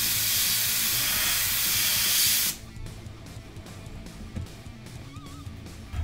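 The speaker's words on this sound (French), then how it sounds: "l'aéro, c'est comme l'outil bombe de peinture sous paint" An airbrush sprays paint onto a miniature figure, giving a loud, steady airy hiss for a couple of seconds before it cuts off abruptly, leaving quiet room noise.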